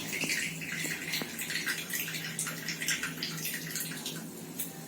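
Water splashes and trickles over hands during wudhu ablution, a steady soft flow with small drips and splatters at low level throughout, with no talk.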